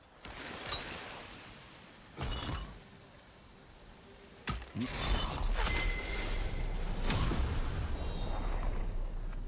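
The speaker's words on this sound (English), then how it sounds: "The gate is lowering out there." A heavy gate lowering in God of War Ragnarok, with clinking metallic mechanism sounds and creaks in bursts, then a sustained grinding rumble over the last half as the gate moves down, fairly close and moderately loud.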